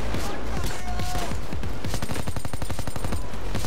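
Assault rifle gunfire in the heist shooter Payday 2, with loud, close, irregular shots giving way to a fast, even automatic burst over constant game noise.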